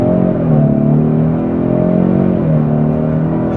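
A 2026 Ford Mustang EcoBoost in track mode launches off the line, its engine note climbing loudly through harmonic sweeps as it pulls hard, with a slight dip and renewed rise midway and no talking.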